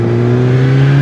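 A Kawasaki ZX10R 1000cc sport motorcycle engine drones loudly and steadily at close range with a strong low hum, heard alone for one second.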